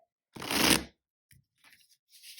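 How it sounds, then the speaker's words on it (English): Tarot cards corner shuffled by hand, one crisp riffling burst followed by a few softer card taps and a second shuffle beginning at the end, close and clear with no talk. "I'm a corner shuffler, so just ready for it."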